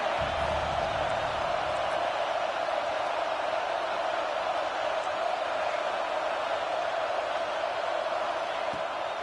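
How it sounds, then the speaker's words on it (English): Home crowd noise in a college football video game, Texas at Georgia, forms a loud, steady roar that holds unbroken from start to finish with no clear peaks. "Man, this crowd really affecting the football game."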